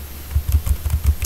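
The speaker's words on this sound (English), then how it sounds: "in order to check whether your CUDA compiler works, you can type the command" A short burst of typing on a computer keyboard, about half a dozen quick, close key taps in an uneven rhythm, with nothing else audible around them.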